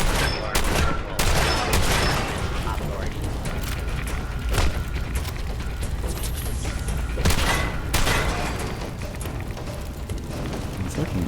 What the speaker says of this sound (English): Let's switch over to the combat rifle.